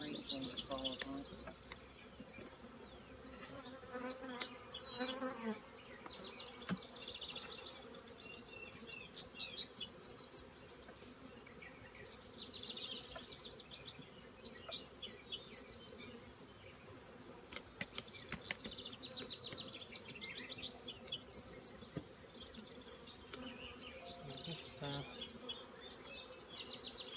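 Honeybees being shaken from frames into a hive for raising queen cells make a steady outdoor buzz that swells in repeated surges as clusters drop in, with faint birdsong in the background.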